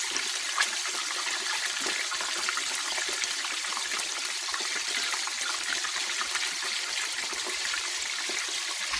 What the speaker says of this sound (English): Just rinse it with cold water.